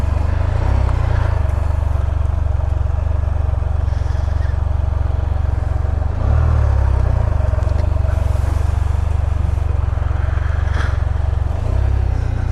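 A 2016 Can-Am Spyder RT motorcycle rides through snow with a steady, loud, low engine drone and rushing wind, unbroken for the whole stretch and with no speech.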